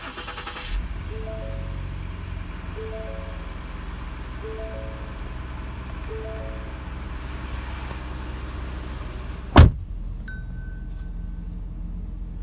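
A 2017 Ford Explorer Platinum sits with a steady idle hum and repeating chime tones, then a sharp loud click-burst marks the push-button start before the cabin goes quiet with a faint tone.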